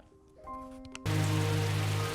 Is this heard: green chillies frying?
no